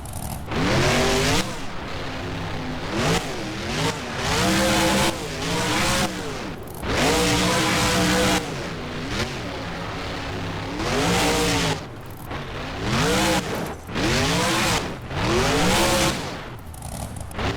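A monster truck engine in the BeamNG video game, for the Maximum Destruction truck, roars loudly and continuously with repeated revving swells and drops, rising and falling in pitch throughout.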